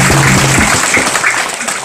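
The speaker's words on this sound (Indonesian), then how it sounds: "Kita tepuk tangan dulu untuk Bapak." A church congregation applauding a Bapak at a Corpus Christi celebration, loud dense clapping from a crowd that starts strong and thins out within two seconds.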